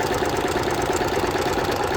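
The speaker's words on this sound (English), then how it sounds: "I can definitely sew my seam a lot faster." A sewing machine runs fast and steady while stitching a hem seam on a towel, giving a continuous buzzing, rhythmic mechanical whir at close range with no talking.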